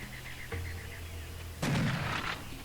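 After quiet mechanical hum and a dull thud, a vehicle in the video game Serious Sam HD: The Second Encounter explodes with a loud boom that rumbles for under a second before settling.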